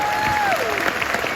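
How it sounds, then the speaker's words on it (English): Audience applause at a fan convention panel for the Arrow television cast, a steady, loud wash of clapping and crowd noise with a brief tonal sweep running through it. "Keep the applause going"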